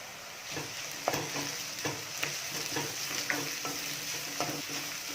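Onions with ginger-garlic paste and curry leaves sautéing in a pan, a steady soft sizzle broken by regular scraping stirs of a spoon roughly every second, close and moderately quiet with no voices.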